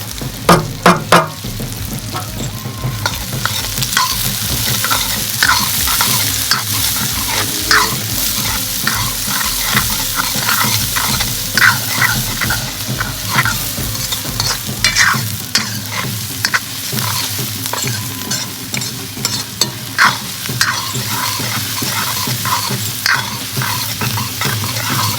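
Chopped ginger and onion fry in a hot pan with oil, a loud, close, continuous sizzle punctuated throughout by rapid scraping and clattering of a stirring spoon.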